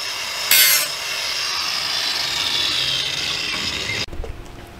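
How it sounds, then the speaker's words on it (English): An angle grinder grinds down the window opening of a custom door in a school bus conversion, giving a steady, harsh abrasive whine for several seconds before it cuts off abruptly. "I was just filing it down with an angle grinder"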